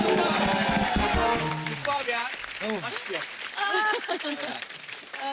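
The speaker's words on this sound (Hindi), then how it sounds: "जोरदार तालियां" Studio audience applause on a TV dance competition show, a loud burst of clapping at the start that fades into cheering, music and overlapping voices.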